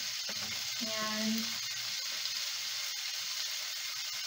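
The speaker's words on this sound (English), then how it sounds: "So we'll brown this sausage for probably about 5 minutes till it looks nice and brown" Sausage browning in a pan gives a steady, close sizzle and hiss throughout, with a brief voice near the start.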